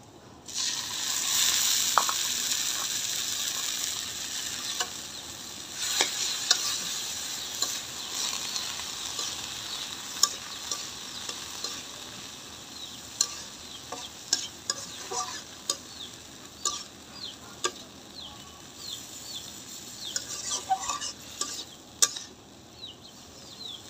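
Greens go into a pan with lightly browned onions and sizzle steadily, while a spatula scrapes and clacks against the pan in frequent, irregular strokes close by.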